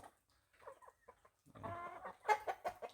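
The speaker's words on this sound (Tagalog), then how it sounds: "Ito yung kabila naghihintay na rin yung mga inahin ko, hindi ko pa na na pakain." Native chickens, including hens, clucking nearby, a few soft scattered clucks at first, then a busier burst of overlapping clucks and squawks toward the end.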